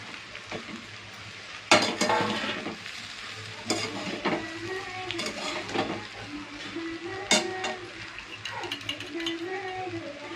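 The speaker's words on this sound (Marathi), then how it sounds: "हे बघा आपल्या अर्धा भाज्या शिजून झालेल्या आहेत। आता आपण हे टाकूया मेंदू वडा।" Pieces of medu vada are tossed into half-cooked vegetables in a frying pan for medu vada manchurian, giving a close sizzle with sharp stirring clatters, while a person talks over it.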